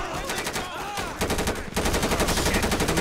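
Rapid automatic gunfire from a GTA 5 police bank-heist shootout, dense crackling bursts that thicken and grow louder partway through and continue as a sustained barrage.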